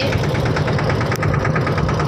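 A tractor engine runs steadily on a road, a loud, continuous idling chug with a regular pulsing rhythm close by, without any talk over it.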